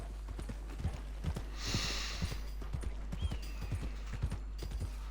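Horse hooves clip-clop steadily in Red Dead Redemption 2, an irregular close run of light knocks with a brief snort or breathy gust partway through, heard over a low constant hum.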